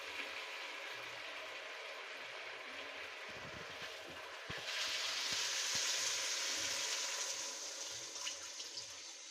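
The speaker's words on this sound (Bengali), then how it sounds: "এখন আমার চিকেনটা ভালো করে কষানো হয়ে গেছে" Chicken pieces for a chicken roast sizzle steadily in a pan after thorough browning, a continuous close frying hiss that swells louder midway, with no talking.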